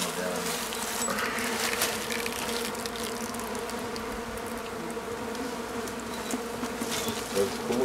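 Stingless bees hum and buzz steadily around an open meliponiculture hive, a dense continuous drone close by with occasional louder passes, faint voices in the background.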